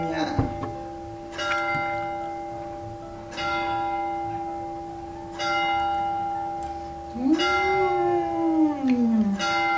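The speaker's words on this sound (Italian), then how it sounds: "Suonano le campane perché se magna." Church bells ring in several separate strokes spaced about two seconds apart, each tolling and fading, with a long humming resonance underneath and a rising-falling tone near the end.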